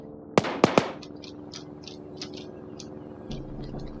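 Three sharp, loud gunshots crack close by in the ArmA 3 military video game, followed by a string of fainter distant shots popping at irregular intervals over a low background rumble.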